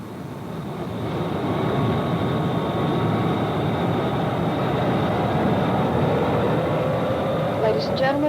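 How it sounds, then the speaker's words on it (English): Lockheed TriStar airliner landing and taxiing to the terminal, a steady loud broadband roar of engines and rolling that builds in the first second and holds throughout, with a faint rising whine near the end. "our TriStar has just landed and is taxiing to the terminal"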